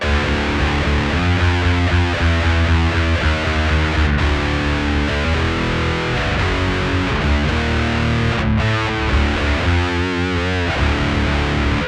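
Heavily distorted electric guitar run through a Synth Annihilator pedal with no cabinet, in an extreme black and death metal tone, playing a dense, continuous riff that stays loud and saturated throughout.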